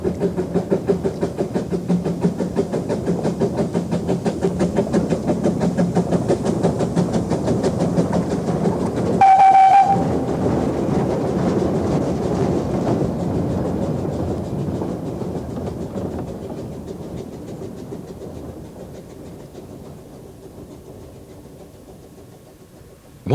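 A Santa special train on a Welsh preserved light railway rolls along with a steady rhythmic clatter of wheels, a brief whistle blast partway through, then the running noise gradually fades as it moves away.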